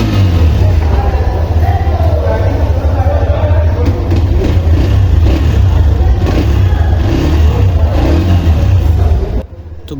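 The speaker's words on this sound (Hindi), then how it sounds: "अब हम सुनाते हैं आपको अपनी बाइक का स्टॉक साउंड" A Hero motorcycle with its stock exhaust rumbles loudly at close range with a deep, throaty note and some revving, then cuts out abruptly near the end.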